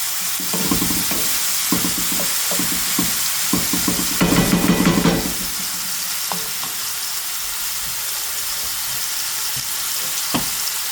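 Mushrooms browning in a hot pan give off a loud, steady sizzle, with stirring scrapes and clatter on top for the first few seconds, and no talking.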